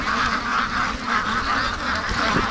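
Free-range ducks at a lake quack steadily in a close, busy flock, calls overlapping continuously throughout with no pauses.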